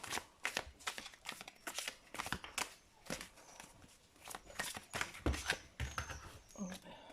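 Tarot cards are shuffled, flipped and drawn in a run of quick papery slaps and rustles, close and steady, with no voice over them.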